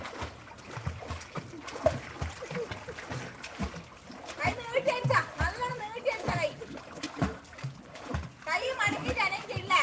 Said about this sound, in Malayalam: കാല് വെള്ളത്തിൻ്റെ മുകളിലടിക്ക്